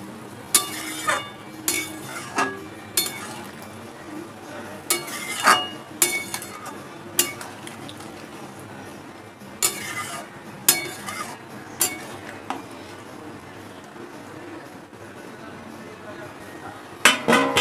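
Potato, pointed gourd and prawn curry stirred in a pot, with repeated metallic clinks of a spoon against the pot at an irregular rhythm, close and moderately loud over a low background hum.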